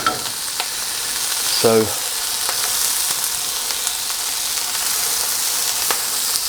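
Pumpkin cooking down in a pan makes a loud, continuous close-up sizzle with a few small pops. Someone speaks a single brief word over it.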